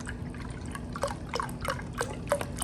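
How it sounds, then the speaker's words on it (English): Soup stock poured into a bowl while making Italian cheese tortellini soup, a run of close, wet drips and splashes with a steady low hum behind, no talk. "Just pour the rest of the stock in the bowl."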